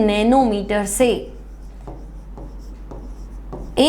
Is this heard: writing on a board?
yes